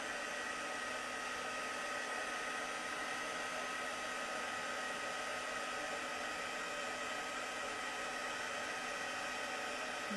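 A heat embossing tool blows hot air over a freshly stamped card dusted with embossing powder, a steady, even whirring roar that holds unchanged and close throughout, with no voices.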